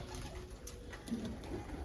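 Pigeons in a loft give soft, low, repeated coos, faint and steady with no voices over them.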